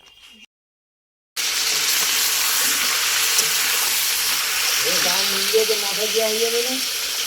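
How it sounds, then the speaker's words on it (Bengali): Mutton curry sizzles steadily in a frying pan after a short silent start, a close, constant hiss with people talking over it toward the end. "আমি তরকারিটা বসিয়ে দিই"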